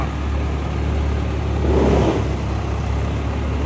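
The engine of an XCMG LW220K wheel loader runs close by, a loud steady diesel drone that swells briefly in the middle as it revs, then settles back.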